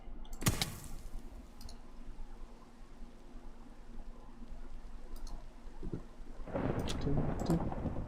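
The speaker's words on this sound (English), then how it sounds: "Oh, it's thundering!" Thunder in the Minecraft video game: a sharp close crack near the start, then a low rumbling roll building toward the end over a faint steady background.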